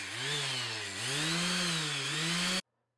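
A steady, loud mechanical whine of a power sander lightly sanding a CNC-routed wooden wine glass holder board, with a slight pitch dip partway through, running continuously before cutting off abruptly.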